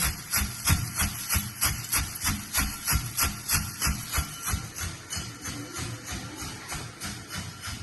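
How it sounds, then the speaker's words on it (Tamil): Dried coffee berries from a home garden are pounded in a steady, rapid rhythm, each thud coming with a dry crackle and rustle of breaking husks, close and continuous throughout. "உடச்சோன்னா வந்துடும் சலசலன்னு சலன்னு சத்தம் கேட்குறோம் இந்த தோலோட சலங்கு"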